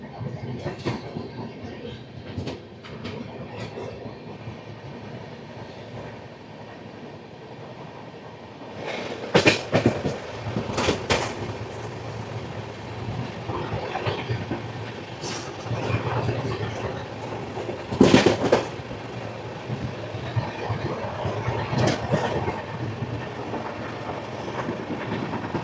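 Passenger train rolling past Chirala and Krishna Canal Junction stations, a steady interior rumble with rail clatter and a few sharp clanks and bursts, continuous throughout.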